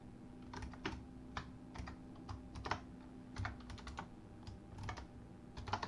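Code being typed on a computer keyboard while writing a Lua function, close irregular clusters of key clicks with short pauses between bursts, fairly quiet over a low steady hum.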